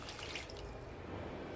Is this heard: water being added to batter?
yes